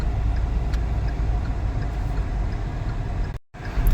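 Heavy road traffic keeps moving, a dense, steady rumble of engines and tyres close by, broken by a brief dropout near the end.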